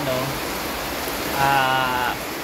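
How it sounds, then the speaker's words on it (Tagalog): Heavy rain outside during a flooding downpour, a dense steady hiss throughout, with a voice talking faintly underneath. "Sobrang lakas ng ulan, baha na sa labas"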